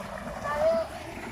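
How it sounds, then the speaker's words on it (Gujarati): Irrigation water flowing steadily through a farm channel in a village field, a constant close rushing wash with a faint voice mixed in. "હા, પાણી ચાલુ જ છે."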